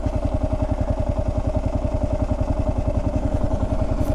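Kawasaki KLR650 single-cylinder thumper motorcycle engine running close and loud, a steady rapid low-pitched pulsing beat with mechanical clatter, no voices.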